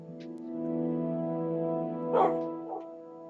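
A dog in a Minecraft house gives a short bark, a brief yelp over a steady droning game background.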